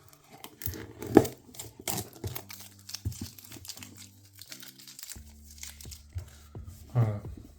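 Crumpled newspaper packing crinkles and rustles as a parcel is unwrapped, with close, irregular crunching handfuls and a sharp tear, while a voice murmurs faintly in between.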